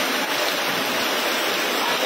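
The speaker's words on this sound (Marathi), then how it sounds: "पाणी वाहत आहे आणि पावसाला मोठी सुरुवात झालेली आहे." Heavy rain and rushing water in Kankavli town, a dense, steady roar of broadband wash that holds loud and constant throughout with no break.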